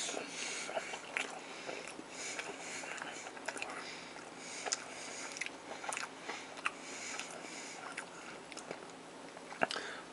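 Close, quiet bites and steady chewing of Philly cheesesteak pizza with steak, onion and pepper from a country fair, with small crunches and mouth noises repeating throughout.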